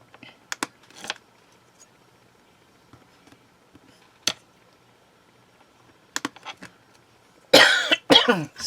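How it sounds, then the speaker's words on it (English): A woman coughs in a few sharp, scattered bursts in a quiet room while working with polymer clay, ending in a louder cluster of harsh coughs. "I really would love to get rid of this cough."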